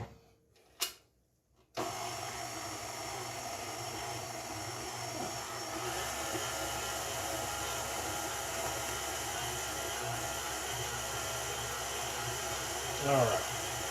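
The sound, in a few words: electric mixer kneading sourdough bread dough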